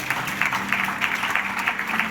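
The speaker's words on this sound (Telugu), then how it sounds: "చప్పట్లు కొట్టాలి." A church congregation claps together at a Christmas celebration, steady rhythmic applause from a moderately sized crowd, fairly close and continuous.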